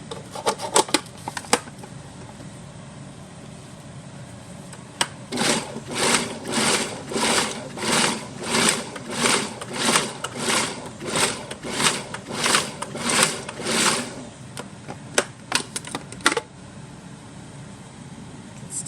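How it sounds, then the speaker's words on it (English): A food processor roughly chops peeled peppers in a run of short, even pulses, about a dozen loud whirring bursts in a steady rhythm, close up, framed by a few brief clicks before and after. "I'm going to give them a kind of a rough chop here in the food processor"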